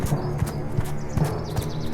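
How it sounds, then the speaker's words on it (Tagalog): Hoofbeats of a large goat crossing a bridge, used as a storybook sound effect, tap in an uneven clip-clop rhythm, close and moderately loud, with no speech over them. "maririnig ang mga yapak ng panganay na kapatid sa tulay"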